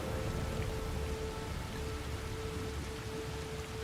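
Steady rain pours down in the video game Assassin's Creed Shadows, a dense continuous hiss of drops on surfaces with a faint thin tone running beneath, no voices over it.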